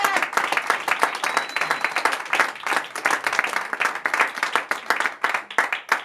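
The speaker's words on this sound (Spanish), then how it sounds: "denle un aplauso fuerte a su Señor" A church congregation claps loudly and steadily through a Sunday resurrection sermon, dense applause close and sustained with a few cheers mixed in.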